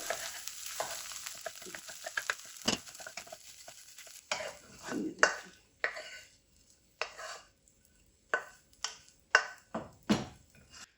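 A spoon scrapes and taps against a pan in a series of sharp, irregular knocks over a faint sizzle, breaking food into small pieces, close by with no talking.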